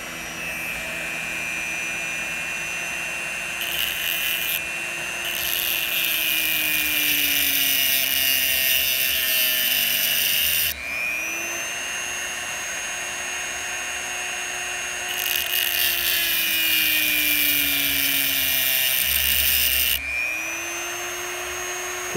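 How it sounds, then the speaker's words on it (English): A power tool cutting notches into .50 caliber hunting bullets: a loud high-pitched grinding whine in long sustained passes, each cut rising and then stopping abruptly, with brief pauses and restarts between three main runs. "Just cutting some notches."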